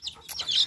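A young half-grown rooster gives a brief, close pair of squawky clucks, quick and alone.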